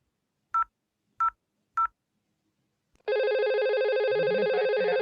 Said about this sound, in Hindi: ये टेलीफोन का डायल टोन भी सुनाई देगा, और मैं नंबर डायल कर रहा हूँ।